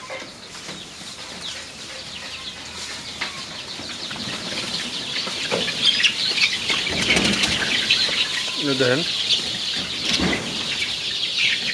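Chickens and chicks at a feeding spot with scattered grain, wings flapping in bursts amid steady clucking and chirping, growing busier midway, with a voice briefly heard.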